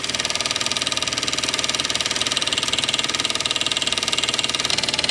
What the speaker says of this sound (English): you'll see it's chunking away fine.